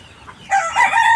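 A four-month-old Sonali chicken lets out a loud, close, drawn-out call after a quiet start, bright and raspy, on a small farm.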